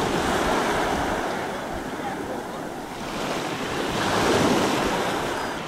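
Sea waves at Lyubimovka wash and surge around a swimmer in the water on a late-season beach day, a steady close rushing wash that swells and eases, with wind buffeting the microphone throughout.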